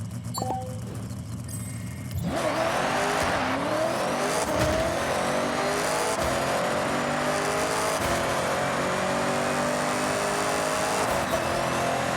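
A Ford Sierra RS500 in the racing game Forza Horizon 6 starts up and revs, its engine note rising and falling through repeated throttle blips and pitch sweeps. The engine sound stays close and loud throughout.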